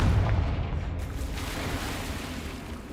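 A Confringo fire spell in the video game Hogwarts Legacy bursts with a heavy boom at the start, then a broad roaring rumble fades slowly over a few seconds.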